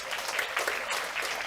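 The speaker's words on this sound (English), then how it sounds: "You should give yourself a round of applause" Wedding guests applaud at a reception during the speeches, a steady, dense round of clapping that holds evenly for a moment with no voices over it.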